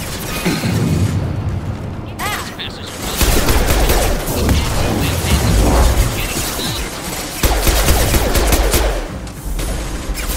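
Missiles launching and exploding in the video game Mass Effect 2, a loud continuous barrage of booming blasts and rattling gunfire in bursts, with a player's voice over the action.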